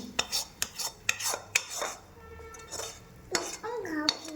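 An iron tawa griddle is handled and set down on a stove with a series of sharp metallic clanks and scrapes, close and fairly quiet, with a short ringing tail.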